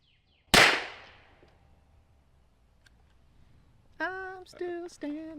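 A single sharp .45 ACP pistol shot into body armor worn by a mannequin, one loud close crack with a quick decaying tail, followed moments later by a voice reacting.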